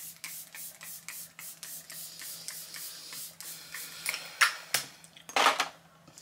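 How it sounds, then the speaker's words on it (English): A hyaluronic acid facial spray is pumped several times during a makeup routine. Soft clicks are followed by a few short, close hissing mists that grow stronger toward the end, with no voices. "crucial step, a hyaluronic acid spray"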